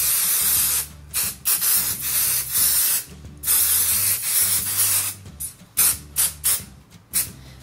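Temporary adhesive sprayed onto a Scan'N Cut cutting mat: loud hissing aerosol bursts, several long sprays followed by a run of short quick puffs near the end.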